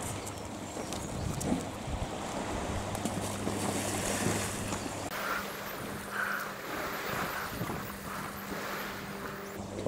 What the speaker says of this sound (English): Some proper little waves on the beach here, thanks to the swell.